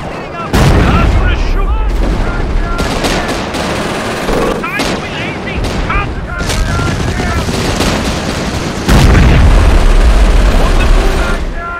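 Dense World War II battle noise from Company of Heroes: machine-gun bursts, rifle fire and booming explosions pile up loudly and continuously, with shouted unit voice lines mixed in.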